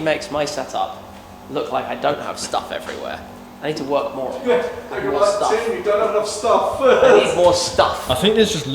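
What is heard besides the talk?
No everyday noise stands out behind the speech.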